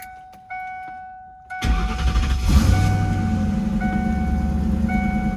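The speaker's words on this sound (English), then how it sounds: "So I guess our next steps would be to start this thing up" Modified Ford Mustang SN95 with an automatic transmission cranks and fires up, its engine catching abruptly after a faint whine and then settling into a loud, steady rumbling idle close by.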